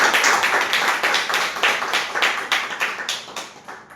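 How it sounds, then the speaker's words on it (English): An audience applauds to welcome a speaker at a Toastmasters meeting, a dense burst of clapping from a modest crowd that stays steady and then slowly thins out. "So let's all welcome with a big round of applause"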